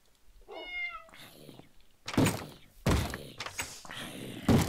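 A cat meows, then bangs repeatedly through a door, several loud thumping knocks in an uneven rhythm close by, with no talking.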